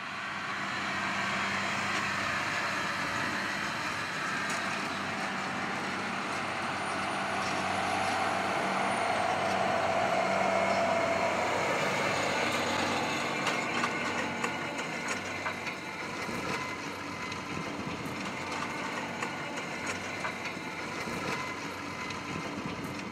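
A tractor's 7.4-litre six-cylinder engine, rated 220 hp, runs at a steady, even level throughout, heard from a moderate distance with no voices.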